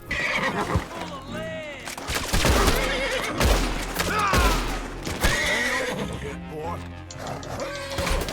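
Horse neighing and whinnying repeatedly amid gunfire in the western game Red Dead Redemption 2, loud shrill calls over sharp shots and a rumbling mix, with someone talking excitedly throughout.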